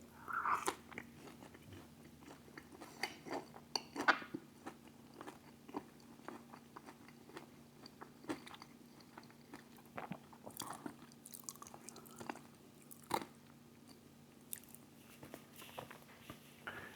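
Wendy's spicy chicken nuggets are bitten and chewed close to the mic, faint scattered crunches and moist chewing sounds spread irregularly over a quiet room with a low steady hum.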